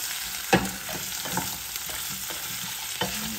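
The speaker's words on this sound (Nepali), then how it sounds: "मिडियम साइज प्याज राखेर एकछिन भुट्ने होला" Medium-sized onion frying in a pan for chicken soup, giving a steady close sizzle with occasional stir clatters and a sharp knock near the start, no voices.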